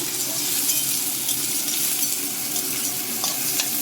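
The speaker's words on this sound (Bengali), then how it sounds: "একটু একটু ঘুগুনিটা নেড়ে নেব" Snails frying with potato and chopped onion in a pan, a close, steady sizzle with light metallic scrapes and clinks as the mix is stirred, continuous for a few seconds and without talking.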